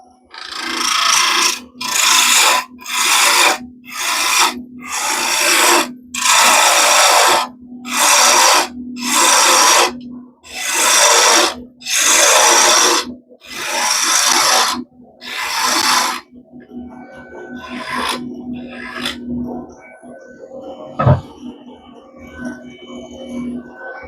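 A bore gouge cuts exotic zebrano wood spinning on a lathe, making loud, rhythmic rasping bursts about a second apart. The cuts give way to quieter workshop noise near the end.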